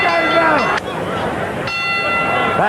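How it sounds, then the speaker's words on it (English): A boxing ring bell clangs twice to open a round in a 1978 heavyweight title fight, bright ringing strikes with sustained decaying tones over a noisy arena crowd. "The bell for the start of the 10th round."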